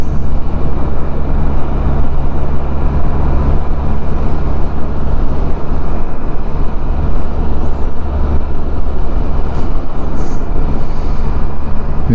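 A Can-Am Spyder three-wheel motorcycle cruises along a farmland road, its engine and wind roar forming a constant loud drone from close by, with no voices.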